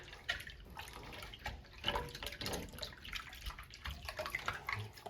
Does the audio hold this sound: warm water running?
yes